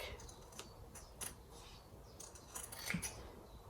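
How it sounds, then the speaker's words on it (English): Scissors cutting faux leather vinyl snip in soft, irregular crisp cuts, close by and very quiet, with faint rustling between strokes. "get my scissors and I'm just going to cut as close as I can to that vinyl"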